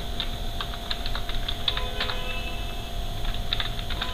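Typing on a computer keyboard while entering data into a spreadsheet, a string of irregular close key clicks and taps over a low background hum, with no voice.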